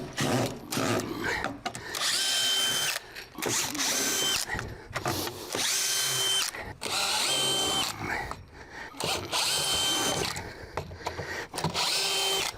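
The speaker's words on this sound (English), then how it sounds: "removing as many screws as possible" Power drill backing screws out of an old deck structure, working through bursts of high whining spin, each run a second or two long with short pauses between, loud and close.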